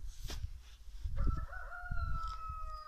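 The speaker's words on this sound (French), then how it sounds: "Un coq du voisin qui nous dit bonjour." A neighbouring rooster crows at a distance in a garden, its drawn-out call sounding over low rustling and handling noise.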